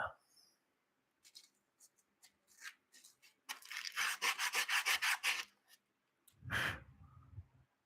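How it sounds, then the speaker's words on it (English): Scattered faint scrapes lead into a run of rhythmic back-and-forth hand sanding strokes on a wooden tray, close by, followed by a brief louder rustle. "just got a project I got to do some sanding on"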